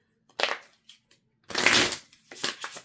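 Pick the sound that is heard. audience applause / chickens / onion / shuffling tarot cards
shuffling tarot cards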